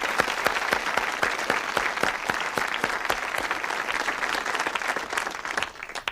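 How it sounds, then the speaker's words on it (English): Studio audience applauding the suspects on a TV murder-mystery panel game show: steady, dense clapping from a sizable crowd throughout, close and even, tapering slightly at the very end. "Let's have some applause for the suspects."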